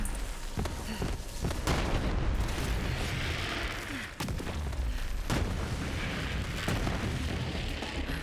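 Rocket launcher firing and detonating in the shooter Borderlands 3, a series of heavy booming blasts and explosions over a constant rumbling battle din, several sharp impacts spaced across the stretch.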